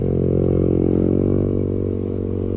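A Honda MSX small-displacement motorcycle is ridden with a steady, loud, close engine drone that eases off slightly toward the end, with no talk over it.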